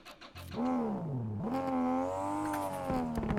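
A turbo car engine in a video game (Drive Beyond Horizons) revs up and down with a smooth, synthetic whine, pitch rising and falling close by, with a few clicks around it.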